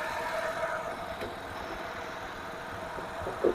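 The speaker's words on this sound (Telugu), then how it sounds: "వెహికల్ యొక్క ఇంజన్ మొత్తం చూపిస్తా చూడండి." A Renault Kwid RXT petrol engine idles with a steady, quiet hum that holds evenly throughout, with one short louder bump near the end and no voices.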